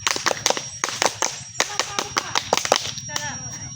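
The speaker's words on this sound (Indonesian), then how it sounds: "Tepuk Pramuka." A group of Scout (Pramuka) members performs the Scout clap at an activity session, sharp rhythmic hand claps in a patterned sequence of bursts, fairly close and loud, with voices chanting along between them.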